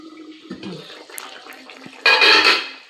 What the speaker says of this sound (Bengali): এখন একটু গরম জল দিয়ে দিলাম।